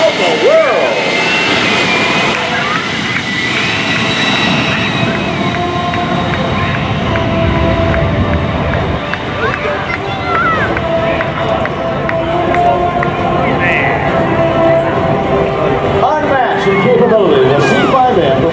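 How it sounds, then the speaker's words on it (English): Lockheed C-5M Super Galaxy military transport jet performing at the 2019 Dover AFB airshow, a loud continuous engine roar that stays steady and close throughout, with an announcer's voice running over it. "Ladies and gentlemen, the C-5M Super Galaxy, the heavyweight champion of the world."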